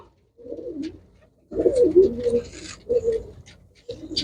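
Pigeons of a Punjabi fancy breed with a pure thalla pattern coo in several soft, low bursts close by, with brief pauses between them.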